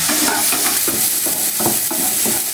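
Pumpkin fries in hot oil with panch phoron five-spice, giving a steady sizzle close by, broken by repeated scraping and stirring strokes about every half second, with no talking.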